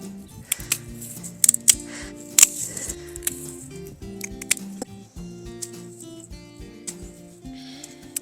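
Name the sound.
cutting dead growth out of a spring planter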